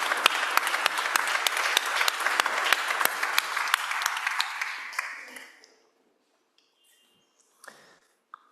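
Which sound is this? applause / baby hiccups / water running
applause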